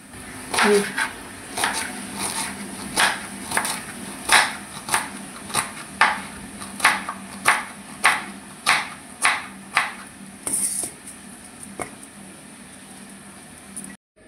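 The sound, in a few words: cutting okra into small pieces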